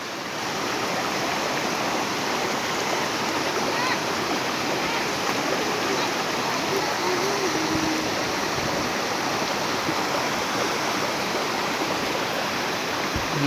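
A waterfall spills over a dam at Sohala Bhauni near Khaira, Balasore, giving a constant broadband roar of rushing water that holds steady without a break.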